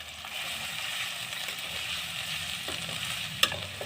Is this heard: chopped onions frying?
yes